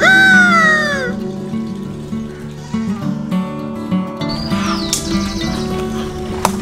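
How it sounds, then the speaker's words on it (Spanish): Roosters on a farm crow loudly with long rising calls, and clucking follows alongside sheep-like bleats and steady background farm noise over several seconds. "Batalla de gallos es esto."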